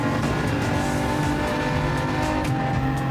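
A Genesis race car in Gran Turismo 7 roars at a steady high pitch, its engine droning loudly and continuously, with tire squeal and skidding mixed in and no talking.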